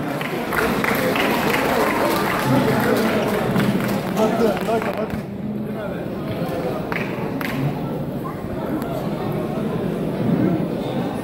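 An audience at an iftar program breaks into sustained applause as a singer is welcomed onstage, a dense continuous wash of clapping and crowd noise with murmuring voices throughout.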